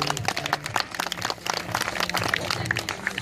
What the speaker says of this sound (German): unsere drei Freiwilligen sind schon mal einen kräftigen Applaus wert,